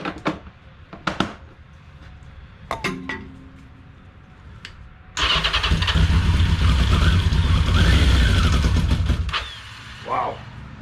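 1982 Yamaha XJ650 Maxim motorcycle that sat unused for five years, a few clicks and clanks, then the engine catching and running loudly for about four seconds before dying back down.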